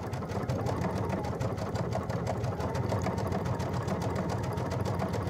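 A Baby Lock Solaris sewing machine fitted with a bridging plate set stitches steadily and loudly for several seconds, its fast needle rhythm an unbroken whir with no talking.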